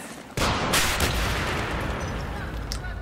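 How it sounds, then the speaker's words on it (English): Rocket blast destroying a building in Battlefield 3, a sudden loud explosion that erupts and then rumbles on with crumbling debris for several seconds. "that rocket blows up the building"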